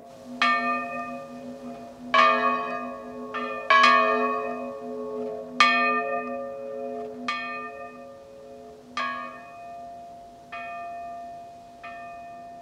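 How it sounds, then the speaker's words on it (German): Two church bells of St. Veit in a South Tyrol valley ringing alone, a series of clear resonant strikes roughly every one to two seconds, each leaving a long humming decay that overlaps the next. "Wenn Mesner-Plattner die beiden Glocken von St. Veit läutet, trägt der Oberwind ihren Klang die Talsohle hinaus"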